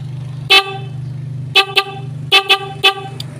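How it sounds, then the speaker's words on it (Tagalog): A Rusi Macho 150 motorcycle horn honks in short bursts: one near 0.5 s, then a quick double and a triple, loud and close over a steady low engine idle. "wala pa yung passing light, busina lang muna."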